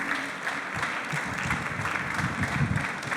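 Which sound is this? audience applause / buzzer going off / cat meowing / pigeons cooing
audience applause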